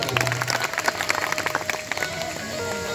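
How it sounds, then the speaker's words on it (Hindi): Audience applause at a devotional talk, a crowd clapping steadily and fairly loudly for about three seconds, with a faint sustained tone and some background voices beneath it. "जोरदार ताली बजाएं"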